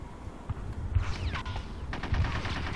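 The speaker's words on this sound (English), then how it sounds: "I think I'm gonna shoot those guys now." Gunfire in the video game Conker's Bad Fur Day, a few quick bursts of shots and impacts spread over a couple of seconds against low game ambience.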